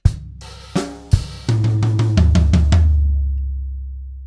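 Drum groove with a run of sixteenth-note single strokes across the medium and floor toms, opening with a few loud hits, then an even tom fill that rings out and decays.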